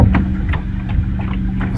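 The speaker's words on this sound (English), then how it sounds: "as we can hear the motorboats around me" Motorboats on the water around a canoe produce a steady low engine rumble, with soft repeated splashy strokes close by and no talking.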